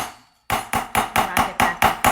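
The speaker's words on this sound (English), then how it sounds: "line that up, press down on it, give it one hit" A hammer strikes a metal ImpressArt letter stamp on cutlery. After a brief quiet, eight sharp, ringing metallic blows follow in a fast, even rhythm, loud and close.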